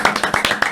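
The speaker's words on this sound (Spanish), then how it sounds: "Aplauso." A small audience welcoming a guest at a church worship night with quick, uneven claps, about a handful of sharp hits in under a second, close and fairly loud.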